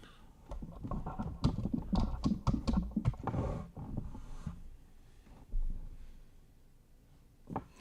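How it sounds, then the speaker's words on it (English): Keystrokes on a computer keyboard clatter in quick, uneven bursts through the first half, then thin out to a few scattered taps over quiet room tone. "Let's type it into Google then."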